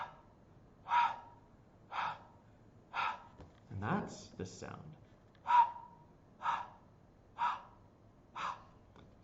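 A voice imitates heavy out-of-breath panting after running: eight sharp, evenly spaced breathy puffs at close range, broken midway by a short spoken remark.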